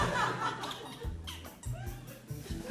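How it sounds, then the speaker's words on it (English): An office chair squeaks in short, repeated creaks as someone shifts in it, several squeals spaced irregularly, with soft chuckling and quiet voices nearby. "got a bit of a squeaky chair"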